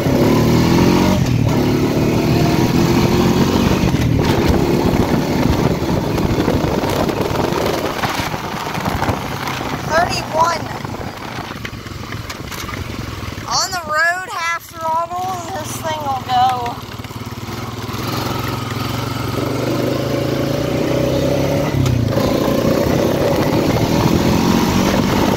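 A Honda quad ATV engine drones loudly and continuously while riding, its revs rising and falling, with wind noise and a brief voice midway.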